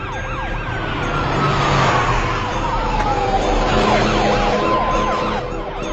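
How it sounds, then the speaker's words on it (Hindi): Several ambulance sirens wail loudly and continuously, their tones sweeping and overlapping as the emergency vehicles pass close by amid steady traffic rumble, with no talking. "ताइयांग की एम्बुलेंसेस यहाँ क्यों आ रही हैं?"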